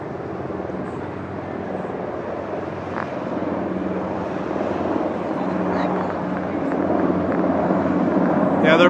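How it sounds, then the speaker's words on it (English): A black helicopter drones overhead, a steady engine and rotor rumble that grows gradually louder, with voices talking at times. "Yeah, they're black helicopters."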